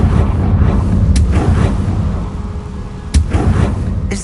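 A Confringo blasting spell in Hogwarts Legacy lets off a booming explosion, followed by several heavy thuds and bursts of combat noise, loud and close.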